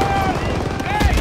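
Battle gunfire from the Call of Duty WWII game comes as a dense, loud burst of rapid shots blending with shouting voices and constant noise.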